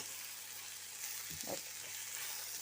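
Cabbage and onion pie filling stews in a pan on the highest heat, giving a soft, steady sizzle with a few brief stirring scrapes near the middle.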